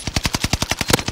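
Rapid automatic fire from a Bren machine gun in Warzone, a steady burst of about a dozen evenly spaced loud shots in quick rhythm, close and dominant with no voices over it.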